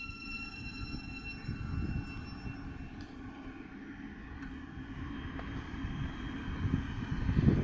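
Class 700 train 700-042 at Elstree & Borehamwood station rumbles steadily with a low, rough rolling roar and faint high whine, moderately distant, with wind buffeting the microphone.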